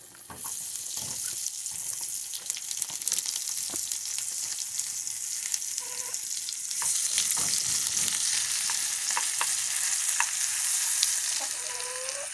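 Butter on high heat sizzles steadily in a pan, with onions being cooked, occasional stirring clicks and a louder burst of frying partway through.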